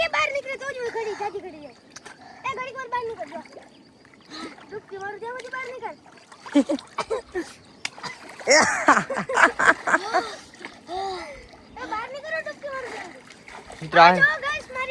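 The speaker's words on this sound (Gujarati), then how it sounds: "આહિલ ભાઈ ડૂબકી મારે પાણીમાં" Children splash and dive in a filled water tank, with scattered sharp splashes, including a loud burst midway, under near-continuous excited chatter and shouting.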